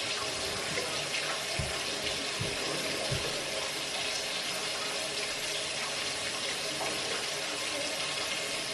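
Warm water runs steadily from a sink faucet while infant formula is being prepared, a continuous close hiss and splash with a few brief low knocks early on.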